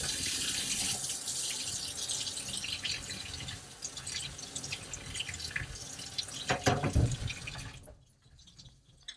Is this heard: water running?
yes